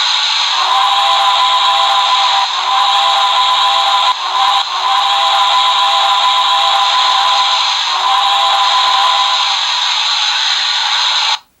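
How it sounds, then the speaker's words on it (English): Sound effects from a Broadway Limited HO scale Reading #217 Light Pacific model steam locomotive: a long, loud, steady whistle blows with a steamy hiss and brief breaks as it shifts between long and short blasts, alone without talk. "Here's the long whistle, and also the short."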